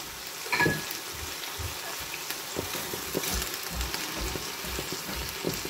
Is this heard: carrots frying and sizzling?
yes